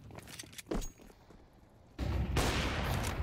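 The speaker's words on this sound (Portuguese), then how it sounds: "É o primeiro tiro aí, o Isaac, tenta acertar o segundo" Gunfire in a competitive shooter match: a few scattered shots early on, then a sudden loud burst of dense, sustained firing that continues to the end, with no talk.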